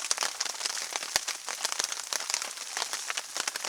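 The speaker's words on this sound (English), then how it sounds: "The rain's still coming down real good." Steady rain patters and crackles on surfaces in a foggy winter Pacific Northwest forest by a shelter, with a few louder drops among them. The sound is dense and close, and no one talks.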